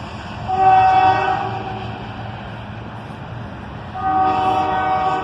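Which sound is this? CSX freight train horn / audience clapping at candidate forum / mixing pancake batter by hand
CSX freight train horn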